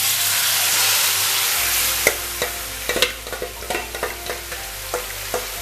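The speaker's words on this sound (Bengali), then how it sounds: "দেখো, তেলটা আমার গরম হয়ে গেছে, আমি এবার এই মাংসটা এই তেলের মধ্যে দিয়ে দেব।" Chicken pieces for homemade biryani dropped into hot oil and stirred, with a loud continuous sizzle and a run of sharp scraping stir strokes. No one speaks.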